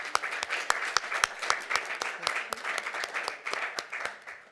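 An audience applauds panelists at a TVET financing session, a steady burst of many hands clapping close and fairly loud, with sharp individual claps standing out through the whole stretch.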